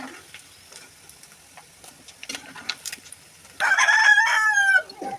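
A household rooster crows once, loud and close, for about a second near the end, following quiet kitchen clicks and a faint sizzle from chicken pickle cooking at ten at night.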